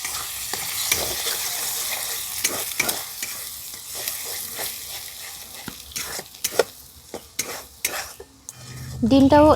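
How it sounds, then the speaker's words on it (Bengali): Two eggs fry in a little salted oil while a utensil stirs and scrapes the pan. A soft sizzle runs underneath, broken by repeated metallic clinks and scrapes, close and uneven in rhythm. "2টো ডিম ফাটিয়ে ভেজে নেব"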